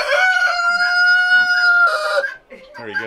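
A rooster crows once, loud and close, a long sustained cock-a-doodle-doo followed by a few short clucking notes.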